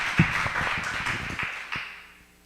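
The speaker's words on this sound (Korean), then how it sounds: "박수로 맞아주시면 감사하겠습니다." Audience applause at an academic theology conference session, a short spell of scattered clapping from a seated crowd that thins out and fades to quiet.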